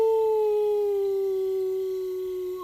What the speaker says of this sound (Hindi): रात को दूर से कुत्तों की भौंकने की आवाज।